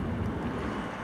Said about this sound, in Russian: А сейчас такой ветер.